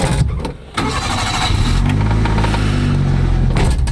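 A Daihatsu Mira 660 cc turbo engine cranks briefly, catches and fires up, then settles into a loud, lumpy idle close by.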